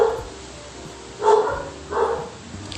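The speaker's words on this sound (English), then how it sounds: "Like dogs just don't get tired of barking because it's one of their communication devices." Dogs bark in two distinct bursts, moderately near, against a hissy steady background with no talk.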